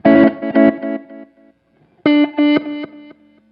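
An electric guitar through an EHX Canyon Delay & Looper pedal set to reverse delay plays short chord phrases, with swelling, backward-sounding repeats between bursts.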